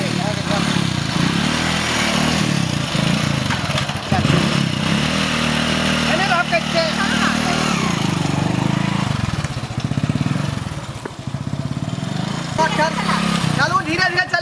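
A motorcycle engine runs steadily up close, its low rumble continuous throughout, with people talking over it.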